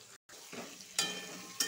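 Sliced pointed gourd frying in hot oil, a steady sizzle with a brief gap and a couple of sharper bursts as the pieces are stirred, close and fairly soft.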